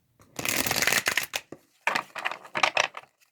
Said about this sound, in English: Give this a couple shuffles.